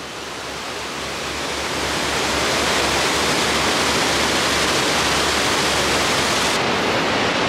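Glacier meltwater waterfall at Briksdal glacier in Norway, pouring up to ten thousand litres per second, roars as a loud steady broadband rush that builds slightly at the start and then holds constant, with no talking.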